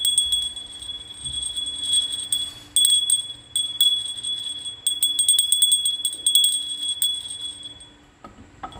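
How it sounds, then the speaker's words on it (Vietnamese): A small celadon-glazed porcelain bell rings again and again, producing clear high tinkling strikes with a sustained ringing tone that fades out at the end. "Sản phẩm tiếp theo đó là một cái chuông bằng sứ."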